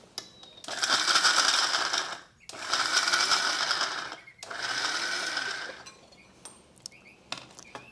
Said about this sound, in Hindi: मिक्सी के जार में हम ड्राई फ्रूट्स को ट्रांसफ़र कर लेते हैं।